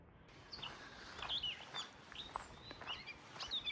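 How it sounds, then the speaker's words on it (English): Repeated sharp, high chirps and whistled calls from a bird, fairly close and lively, over quiet background. "You can tell a noisy bird along the way."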